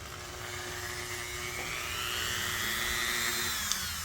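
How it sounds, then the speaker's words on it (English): A Dremel rotary tool grinds the edge of a plastic blow mold, producing a high, whining spin whose pitch rises and falls slightly, heard up close and fairly quiet with no talking. "We'll Dremel this, and then we'll sand it with the barrel sander."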